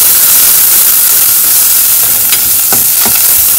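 Onion frying in a hot oil tadka with browning garlic for a red lentil masoor dal, giving a steady loud hiss throughout with a few brief sharper crackles near the end.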